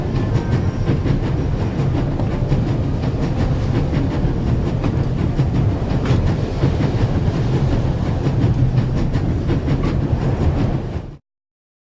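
A video-game train races at full speed, a loud continuous rumble with steady rhythmic clickety-clack of wheels on rails, running unbroken close by until it cuts off abruptly near the end.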